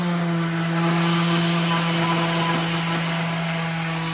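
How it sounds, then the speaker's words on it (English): Power sanding in a wood shop, a steady droning whine from the sander with a constant hum and scratchy abrasive texture, running continuously and close. "Sanding."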